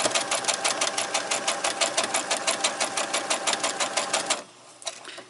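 A sewing machine stitches a quilt in a fast, even run of about four seconds, each needle stroke distinct and close, then stops abruptly and leaves a brief quiet with a small click.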